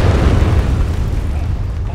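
A bomb explosion in the military video game Arma 3, a loud low rumbling boom that rolls on and slowly fades.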